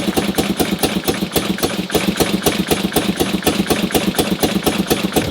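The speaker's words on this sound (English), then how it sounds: "she fires straight into life, and it honestly sounds pretty good" A 1958 BMW R69 motorcycle engine, just started on the first kick, runs steadily at a fast, even idle. Close, loud pulses repeat rhythmically with no talk.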